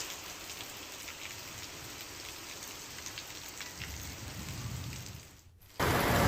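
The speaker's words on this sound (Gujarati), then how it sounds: "ધારી ગીરના ગ્રામ્ય વિસ્તારોમાં ભારે પવન સાથે ધોધમાર વરસાદ પડ્યો" Heavy rain with strong wind pounds the rural villages of Dhari Gir in Amreli, a steady dense roar of falling water that deepens in the middle, dips briefly, then returns louder.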